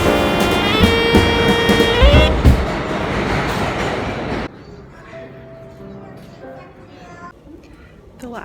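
A New York City subway train heading to Brooklyn rumbles and clatters along the tracks with a rising whine, then the noise drops to a quieter rolling hum as the ride continues.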